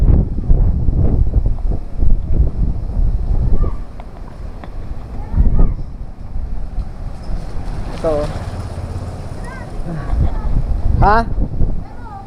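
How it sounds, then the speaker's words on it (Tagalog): Strong typhoon wind roars and gusts against a house with metal roofing sheets, loud and buffeting the microphone, while people shout and talk nearby. "sa lakas ng hangin ay lilipad nga yung mga yero namin sa taas"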